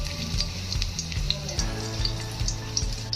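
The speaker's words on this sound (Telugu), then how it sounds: "ఆయిల్ హీట్ ఎక్కిన తర్వాత ఒక ఐదు ఆరు ఎల్లుల్లిపాయలు దంచినవి వేస్తున్నాను" Crushed garlic cloves sizzle and crackle in hot oil in a kadai, a close, continuous frying hiss with small popping bursts and the occasional stir.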